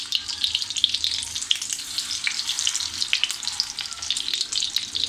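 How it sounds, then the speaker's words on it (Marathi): Chicken cutlets prepared Parsi style fry steadily in a pan, giving a continuous, close, bright sizzle with scattered pops and no talking. "आपण दुसरी बाजूसुद्धा अशीच खरपूस भाजून घेऊया."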